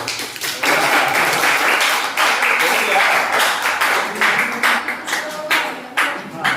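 Audience clapping in a first aid training class: a dense burst of scattered hand claps filling the room, fairly close and loud, with voices mixed in among the claps.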